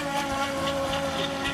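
An electric RC speed boat runs at full throttle, whirling in tight donuts on the water close by, its high motor whine steady and loud with a gusty, wind-buffeted edge throughout.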